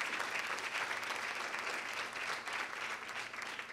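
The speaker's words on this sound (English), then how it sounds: "Can we start by giving Nina a round of applause for her vision" A morning audience at a women's leadership and economics gathering gives Nina a round of applause, producing a dense, continuous wash of clapping that holds steady from a moderate distance.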